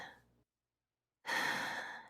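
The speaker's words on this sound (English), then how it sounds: "deep breath out." A slow, deep exhale, heard close up after a short silence: a soft, breathy rush that holds steady and then fades.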